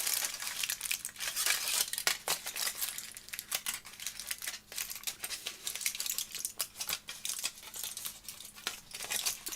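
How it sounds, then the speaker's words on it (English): Sheet of paper crumpled by hand for a junk journal craft, close crackling and crinkling bursts in irregular rhythm, continuing for several seconds with brief pauses and no talking. "So what I'm going to do with this is crumple it."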